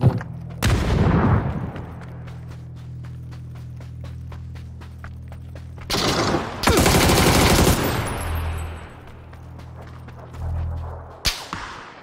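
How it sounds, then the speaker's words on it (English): Rapid bursts of gunfire from PUBG, a battle royale shooter, crack loudly in several heavy clusters with sharp single shots between them, layered over steady game background noise. "Everyone's shooting at me."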